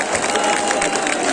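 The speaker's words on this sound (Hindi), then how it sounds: "आप भी अपने लिए जोरदार तालियां बजाएंगे" A brief burst of dense, continuous clapping from a large audience at a coaching class event.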